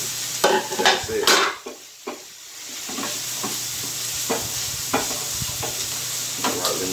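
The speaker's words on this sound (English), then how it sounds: "Hear that sizzle? You hear that sizzle?" Half an onion and half a bell pepper sizzle steadily in a hot pan, a close, continuous frying hiss broken by a few stirring scrapes and clatters.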